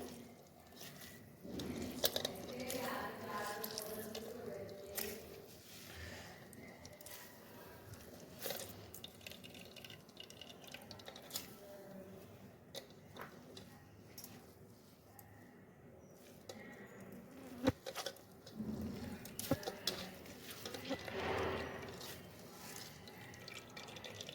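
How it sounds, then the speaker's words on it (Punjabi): Grated vegetables for veg manchurian squeezed hard by hand, water dripping and trickling out in repeated wet squishes and splashes at close range, with no talk. "ਇਸ ਤਰ੍ਹਾਂ ਆਪਾਂ ਸਾਰਾ ਇਸ ਦਾ ਪਾਣੀ ਕੱਢ ਲੈਣਾ ਹੈ"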